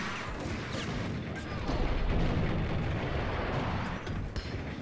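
A grenade blast in the Max Payne shooter rolls out as a loud, broad rumble lasting several seconds, swelling midway and staying dense throughout, with no voices over it.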